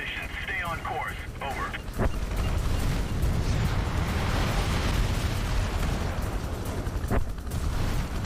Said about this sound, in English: Those explosions sound very bad.